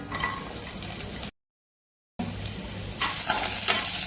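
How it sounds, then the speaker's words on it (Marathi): Green chillies hit hot oil in a kadai with a close, crackling sizzle. It cuts out to a short silence, then returns and grows louder and brighter. "कढईत मिरच्या टाकले."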